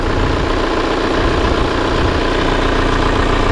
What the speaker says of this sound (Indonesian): Biarkan mesin sampai panas